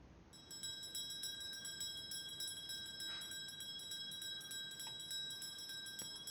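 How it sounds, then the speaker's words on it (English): A dinner bell rings in a dining room during a tabletop fantasy game session, a sustained metallic tone with steady bright overtones over a low background hum, one faint extra strike near the end. "Is that like a dinner bell?"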